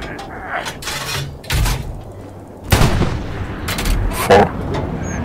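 Artillery in Hell Let Loose at El-Alamein, several booming shots and distant impacts spread over a few seconds, loud and reverberant.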